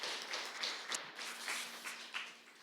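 A congregation applauds during a Korean Sunday church service, a moderate, steady patter of many hands clapping with light tapping accents, heard at some distance without talk.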